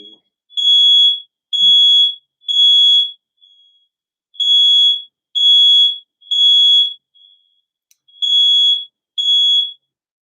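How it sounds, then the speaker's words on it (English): A fire alarm close to an oven sounds in triple bursts of piercing, high electronic beeps, three loud repeating groups with short pauses between them, near and alone. "We have a fire alarm that's close to the oven"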